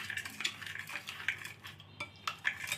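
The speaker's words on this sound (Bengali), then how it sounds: "ভালোভাবে চিনি ইস্টটা জলের সাথে মিশিয়ে নিব।" Spoon clinking and scraping in a bowl while yeast and sugar are stirred into warm water, a steady run of close, light metallic taps and swirls with no voices.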